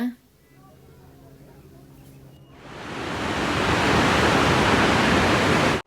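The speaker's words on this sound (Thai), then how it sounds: "ตอนนี้เราก็ แวะตรงจุดตรงจุดนี้เพื่อที่จะดูน้ำตกตรงนี้นะคะ" A waterfall roars as a loud, dense, steady rush of falling water that swells in at about two and a half seconds and holds until an abrupt cut, after a quieter stretch with a voice.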